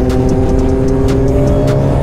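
A Kawasaki Z900 motorcycle with a wide 200-section rear tyre rides close by with its engine loud and steady, holding a strong droning note through a short pass with brief sharper flutters on top.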